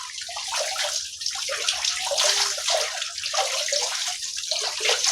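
Water pours steadily into a container to soak a newly acquired crayfish, a continuous close splashing and running-water rush with no talk.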